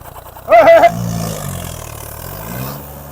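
A tractor engine strains to pull a loaded trolley at a tractor-trolley pulling contest in Mansa district, with a loud brief roar followed by a steady running drone.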